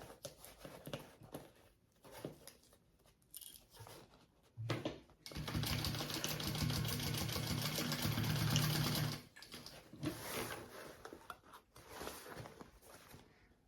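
A sewing machine bastes connectors onto a crossbody bag in a few short bursts of rapid stitching, then one longer steady run and a brief final burst, close and quiet, with light handling sounds between.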